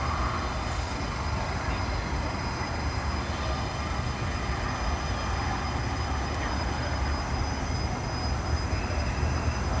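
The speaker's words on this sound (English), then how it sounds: "Two coupled trains, or as we say in Ottawa, a double." A coupled double REM light rail train runs on the rails on its opening-day trip on the Anse-à-l'Orme branch, giving a steady, loud rolling rumble with faint high wheel squeal throughout and no talk.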